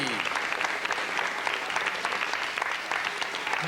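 Steady applause from a French TV show studio audience, dense clapping filling the whole stretch without a break.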